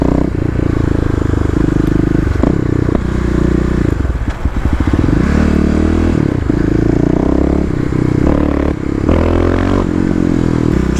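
A Kawasaki KLX351 motorcycle engine cranks over, catches and revs loudly up close, its throttle rising and falling in bursts with some clatter across the whole stretch.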